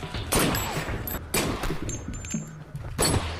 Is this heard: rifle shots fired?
yes